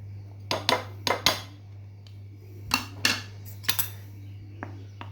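A spoon clinks against a bowl while spices and ingredients are mixed for onion fritters. The clinks come in irregular clusters over a steady low hum.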